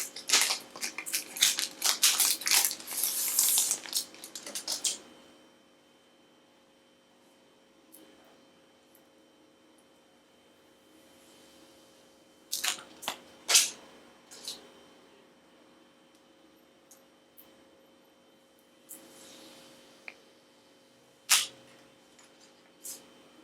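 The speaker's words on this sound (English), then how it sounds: "we'll switch to our special screen protector peeling cam for some plastic unwrapping action" Plastic wrap and a screen protector are peeled off a Sony Xperia Z1 phone, giving a burst of loud crinkling and tearing at first, then sparse sharp crackles and snaps spread out over quiet gaps, close up with no talk.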